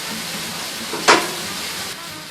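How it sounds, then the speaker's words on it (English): Fried rice in a frying pan sizzles as a steady close hiss, broken by one brief louder crackling burst partway through. "It's sizzling like crazy."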